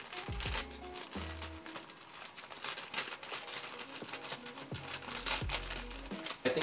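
A mail package is cut open close up with crinkly, scratchy rustling and a few short crackling bursts of plastic or paper, no talking.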